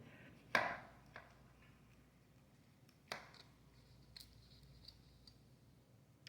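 A knife cuts a small end piece off a rested meatloaf, giving a few soft, faint chopping ticks spread apart, with one sharper contact near the start and another midway through a quiet room.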